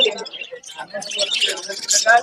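Small caged birds chirp and tweet in quick bursts while people talk close by amid a busy, crowded background at the Meradia bird market in the rain.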